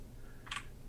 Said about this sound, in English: That is the keyboard. You need to not walk on that.